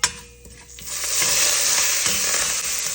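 Curry leaves hit hot oil for a bread upma, starting with a short clatter. A loud, bright sizzle then swells and holds steady up close, with no one speaking.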